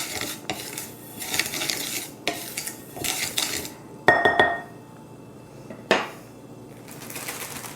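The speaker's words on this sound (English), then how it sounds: "So I'm just going to mix the salt with the lavender essential oil" Spoon stirring coarse salt with lavender essential oil in a bowl, gritty scraping and clinking in uneven bursts with a couple of sharper knocks against the bowl, close and fairly loud, no voices.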